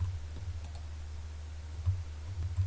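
A computer mouse in use during desktop design work, giving a few sparse, quiet clicks over a low steady hum, with no voices present.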